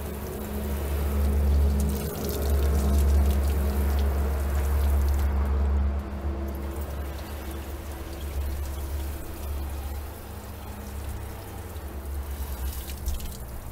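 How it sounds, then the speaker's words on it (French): Running water rinses the glass of a Holophane TR 2S lamp, a steady pour with dripping and splashing that stays close and fairly even throughout, with a brief dip in the flow midway. "Là, il faut le rincer."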